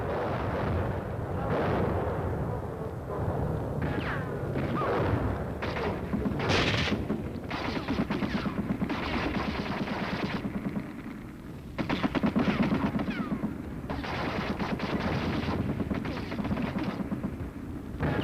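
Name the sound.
U.S. Army artillery firing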